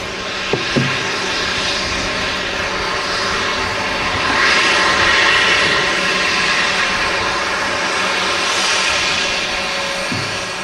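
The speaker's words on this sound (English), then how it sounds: "We've got the Turkish Airlines A380 taxiing out now." Turkish Airlines A380 taxiing at Manchester Airport, a broad steady jet engine roar that swells slightly midway, heard from a distance with a couple of small knocks at the start.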